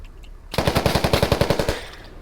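A rapid burst of automatic gunfire in the Squad military shooter, about fifteen sharp evenly spaced shots in under two seconds, loud and close, following a quiet moment and fading into a brief echo.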